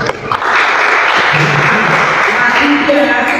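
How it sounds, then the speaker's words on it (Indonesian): A church congregation claps loudly and continuously for several seconds, with voices calling out over the dense applause. "Tepuk tangan Yesus."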